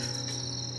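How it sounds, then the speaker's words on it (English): Crickets chirp at night outside a Cameron Highlands hotel: a steady, high, continuous trill, soft and unbroken, with no voices. "Can you hear the crickets?"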